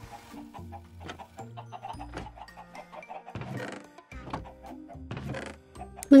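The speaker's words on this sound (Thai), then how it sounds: "มาดูเจ้าไก่ของเราสิ" Chickens in Minecraft cluck in short repeated bursts over a steady game soundtrack, moderately loud and close, with no talking.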